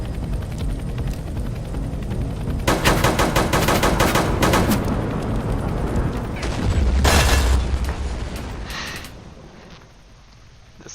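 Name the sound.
revolver gunfire in video game Vampire Hunters 3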